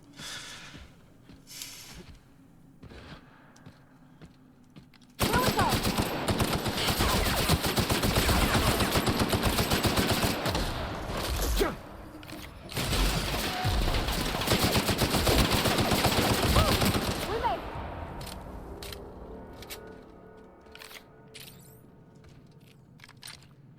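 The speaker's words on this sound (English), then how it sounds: "Grenade launcher." Sustained heavy weapon fire from a grenade launcher in The Outer Worlds, a loud dense barrage starting abruptly and running for several seconds, pausing briefly, then continuing before fading into sparse impacts.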